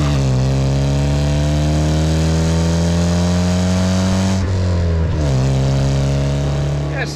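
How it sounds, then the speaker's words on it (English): Alfa Romeo Alfetta twin cam engine in a South African import car, revved up close: a loud, rich harmonic drone climbing steadily in pitch, briefly dipping, then rising again. "Let's just rev it through."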